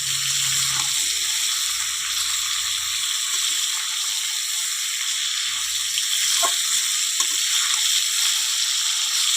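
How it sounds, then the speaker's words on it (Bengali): Mutton pieces sautéed and stirred in a hot pan, a continuous close hiss and sizzle with occasional soft scrapes and light knocks, no talking. "যত কষাবে তত ভালো হবে রান্নাটা, কষানোর উপরই মাংস"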